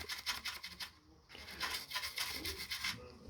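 Close, brisk scrubbing during a room cleaning, a series of quick rhythmic rubbing strokes with one brief pause, with a faint voice in the background.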